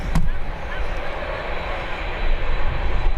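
A jet airliner climbs away from Birmingham airport into cloud, its engines a steady broadband roar held at a fairly even level for the whole stretch.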